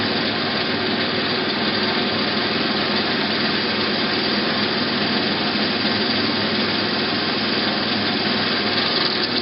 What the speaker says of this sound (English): try to sense when the drill is going to break through and ease up on the pressure